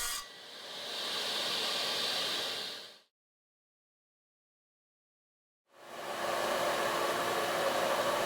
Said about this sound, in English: Here I'm using an 8-inch thin kerf Freud LU83, which is an excellent blade for the radial arm saw.